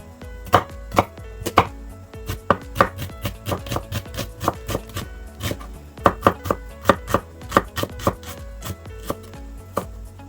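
A kitchen knife chops food fast on a board while a mackerel fishball curry is prepared, striking in quick uneven bursts of sharp, close taps with short pauses between runs, and no talk.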